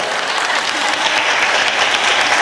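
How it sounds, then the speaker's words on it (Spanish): Dense, loud audience applause fills a hall at a cultural event on sickle cell anemia, a steady wash of many hands clapping with no break. "quiero que le demos un aplauso"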